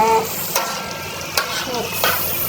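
Onions sizzle steadily in a hot pan, stirred with a few distinct scraping sweeps, close and continuous, with no talking.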